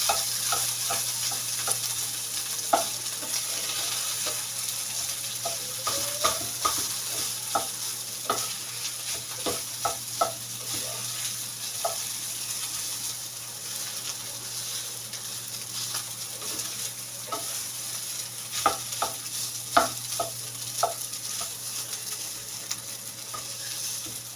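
Cooked rice is stirred while frying in a pan for fried rice. A soft, steady sizzle runs throughout, broken by irregular scraping clicks and taps of the utensil against the pan, close and fairly quiet.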